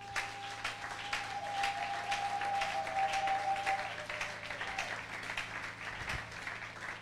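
Church congregation applauding throughout, steady sustained clapping from a crowd in a hall, with a faint held tone and light background sounds underneath.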